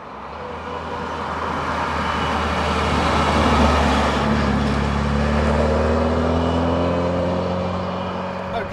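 A supercharged Porsche 924 running a modified Eaton M45 supercharger from a Mini Cooper S drives past with a steady, loud engine drone, the pitch rising gradually through gears with continuous road and wind noise.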